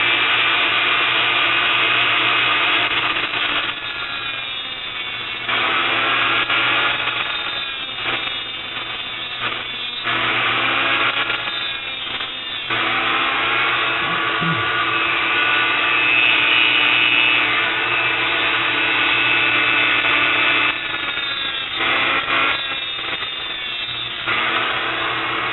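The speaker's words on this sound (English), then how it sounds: "Turn the lathe on backwards. Turn the Dremel on." A Dremel rotary tool regrooves a bearing part spinning backwards on a lathe, making a steady, loud grinding whine with intermittent pauses and shifts in pitch across the whole stretch, without any talk.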